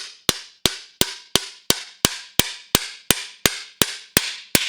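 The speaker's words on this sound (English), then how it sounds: "once you hear that different sounding whack, you know you're down" Hammer striking a part into a Trek Marlin+ 8 bicycle fork: about thirteen sharp, evenly spaced metallic whacks, loud and close, each with a short ringing decay.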